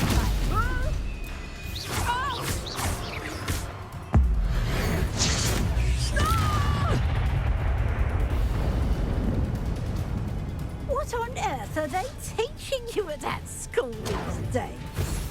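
A Confringo blasting spell explodes with a sudden loud crash in Hogwarts Legacy, followed by sustained rumbling combat noise, whooshes and impacts, with voices shouting over the fight.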